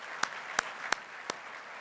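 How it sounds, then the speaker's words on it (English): At a State of the City luncheon, applause for the Oklahoma City Thunder comes through as just four sharp, separate hand claps, evenly spaced and fairly faint against a quiet room background. "Let's give them a round of applause as well."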